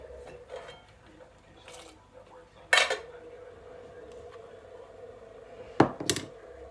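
Carrot goes into a cooking pot, with a couple of sharp metallic clanks of a utensil against the pot and soft clattering between, set against a low background murmur.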